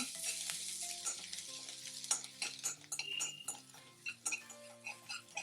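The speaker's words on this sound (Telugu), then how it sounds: "ఇప్పుడు ఇందులోకి మనం దంచిపెట్టిన అల్లం వెల్లుల్లి పేస్ట్ని తీసుకొని ఫ్రై చేయండి." Ginger garlic paste fries in a mix of oil and ghee for an almond soup, a steady close sizzle broken by repeated clinks and scrapes of a spoon stirring the pan; no voices.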